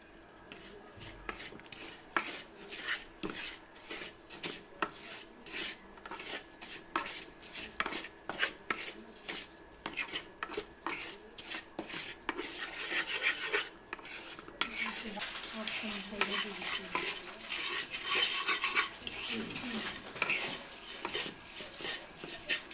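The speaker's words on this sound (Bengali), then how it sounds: "আমরা শ্যামাই ঘি দিয়ে বাছতেছি" Vermicelli fried in ghee in a pan, dominated by rapid, continuous clattering of a metal spoon against the pan, with a faint sizzle rising underneath toward the end.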